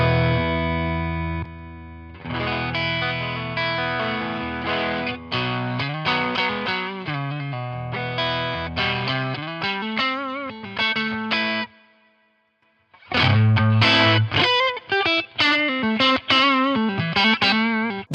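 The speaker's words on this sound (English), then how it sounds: "It basically drastically reduces the volume of your amp and puts a bit of a filter on top of that sound" Heavily distorted electric guitar riffs through a 5-watt amp with its stealth switch engaged, driven hard but at reduced volume, chugging chords and quick runs, with a brief near-silent gap before playing resumes.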